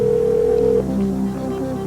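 A telephone call rings through on a game-show phone line, a steady electronic tone with a brief shift partway, heard clearly on its own with no talk.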